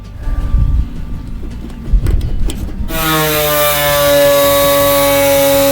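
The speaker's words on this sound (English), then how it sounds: "So I need to get the grinder, cut one of these in half" An angle grinder cuts a metal post in half for building raised beds; after some handling clatter and bumps, the grinder spins up into a loud, steady high whine with a strong harmonic tone.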